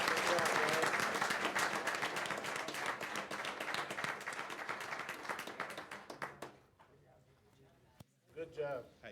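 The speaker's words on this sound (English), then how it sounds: "Let's give them a round of applause." Applause from the audience at a school board of trustees meeting, dense clapping that thins and fades after several seconds, followed by a few scattered claps and brief voices.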